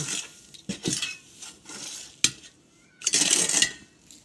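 A spoon clinks and scrapes inside a glass while sherbet is stirred with salt and sugar, in several irregular bursts with quiet gaps between, close and fairly loud.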